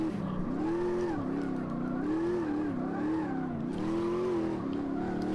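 A car engine held in second gear in the Automobilista 2 racing game, during a drift attempt: a loud, continuous engine drone that rises and dips in pitch with repeated throttle swells, with no talk over it.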